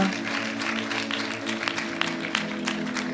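A church congregation clapping during a worship service, a steady round of many hands applauding over a faint sustained tone, with a few sharper claps standing out near the end.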